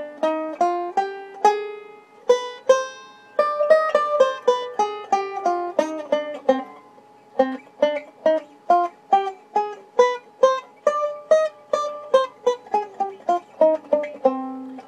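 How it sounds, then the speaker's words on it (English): A C harmonic minor scale played on a keyboard, with clear separate notes climbing and falling in a steady run that lasts the whole passage. Some notes ring together, and no voice is heard. "it's born in a C harmonic minor scale, which sounds like this."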